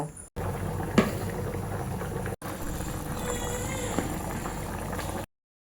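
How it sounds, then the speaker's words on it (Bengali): Prawns go into a simmering taro-root curry and are stirred through, producing a steady bubbling, sizzling wash with scraping stirs, briefly cut off twice, close and fairly loud. "চিংড়ি মাছগুলো এখন আমি দিয়ে দিলাম কচুর মুখির মধ্যে এখন ভালোভাবে নেড়ে চিড়ে নিচ্ছি"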